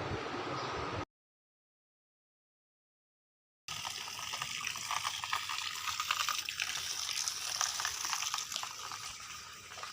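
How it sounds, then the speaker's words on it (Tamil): Rainwater pours and splashes steadily from a small pipe close by in a forested hill area near Yercaud, with a short silent gap before the trickling stream resumes. "இங்கே பார்த்தீங்கன்னா சின்னதாக ஒரு ஓஸில் தண்ணி ஊற்றிட்டுருக்கு."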